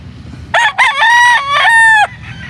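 A rooster on a farm in the Philippines lets out one loud, close cock-a-doodle-doo in several stretched syllables, standing alone over faint background noise.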